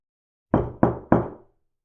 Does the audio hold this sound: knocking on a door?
yes